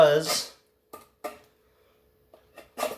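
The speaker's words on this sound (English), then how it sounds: "I can shave some wood off with it" A Fallkniven F1 full-tang knife scraping and shaving wood from a chunk of 2x4, heard as a few short dry scraping strokes separated by quiet gaps, close up, after a brief spoken remark.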